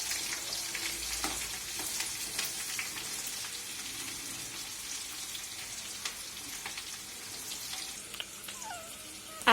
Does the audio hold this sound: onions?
yes